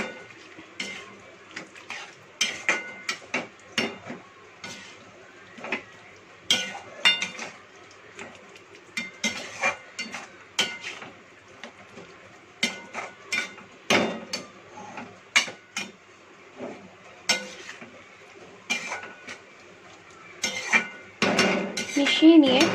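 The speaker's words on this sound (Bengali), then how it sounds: "এবার এগুলিকে ভালো করে মিশিয়ে নেব।" Chilli chicken being mixed with soy sauce in a pan, irregular metallic clanks and scrapes of utensils against cookware, some sharp and loud, with a faint sizzle underneath.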